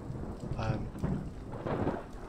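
Rain falls steadily in Skyrim SE, a soft continuous wash with low rumbling swells of thunder rolling in and out, heard alone at a moderate, muted level.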